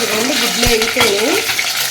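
Eggs frying in hot oil in a pan, a steady close sizzle with a few stirring scrapes and clinks.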